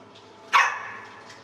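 A single sharp bark from one of a litter of puppies, loud and close, in a dog rescue setting near the Mexican border.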